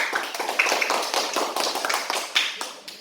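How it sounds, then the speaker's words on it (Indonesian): Brisk classroom applause from a group of students for a student group, uneven hand claps rising and falling over a few seconds, close and moderately loud. "Kita beri tepuk tangan dulu kelompok 3."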